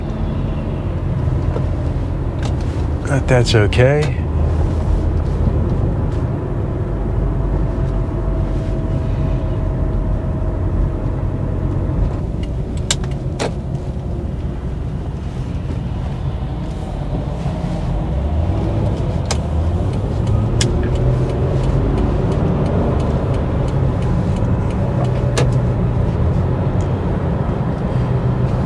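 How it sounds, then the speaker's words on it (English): A car interior rumbles steadily while crawling through rush hour traffic, with low road noise throughout and a brief spoken remark partway through. "Running into a little rush hour traffic here."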